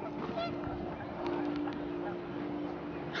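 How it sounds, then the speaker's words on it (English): Panicked geese honk in the video game What Remains of Edith Finch as the wind picks up, short nasal calls rising over a steady windy, droning game background. "The wind picked up and panicked geese appeared and quickly went"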